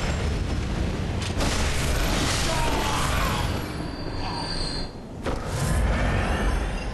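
Sustained, dense roar of Gatling gun fire in Bloodborne, loud and continuous throughout, with a brief dip near the end before the barrage resumes.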